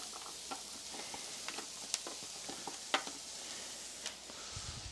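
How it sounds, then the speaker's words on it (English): A Lean Cuisine frozen meal steam-fries in a plain pan with a splash of water. It makes a soft, continuous sizzle scattered with faint crackles and pops, quiet and close. "We'll kind of steam fry it."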